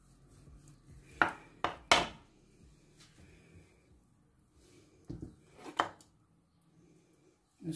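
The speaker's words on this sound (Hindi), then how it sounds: "इसी तरह से ये मैं सारे जो लेग पीस हैं इसको मैं कट लगा लेती हूँ।" Raw chicken leg pieces being scored with a knife on a board in a home kitchen, a few sharp close knocks in two short clusters with quiet pauses between.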